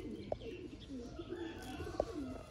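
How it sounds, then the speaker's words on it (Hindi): Sialkoti Jaunsre pigeons coo softly in a quiet setting, with a couple of short, faint calls over low background noise. "ये हैं जी दोस्तों सियालकोटी जौंसरे कबूतर"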